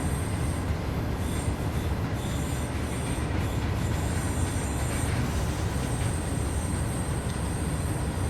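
A DB BR 365 locomotive hauling a short freight train on the Mittenwaldbahn in Train Sim World, a steady rolling rumble with high wheel squeal rising and fading over it, constant and fairly loud with no speech.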